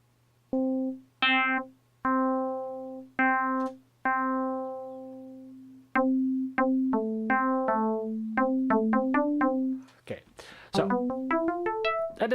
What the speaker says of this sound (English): We're just going to make a real quick and dirty FM sound.